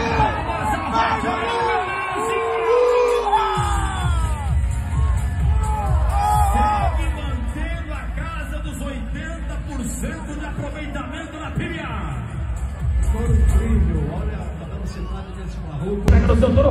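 A big rodeo crowd at a professional bull riding final in Brazil roars, whoops and applauds for a bull rider, loud and sustained, with an announcer talking excitedly over the cheering.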